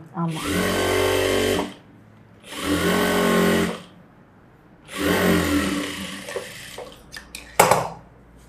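A sewing machine runs in three sustained bursts while stitching a gathered pant piece, loud and close. Short pauses separate the bursts, and a few sharp clicks follow at the end.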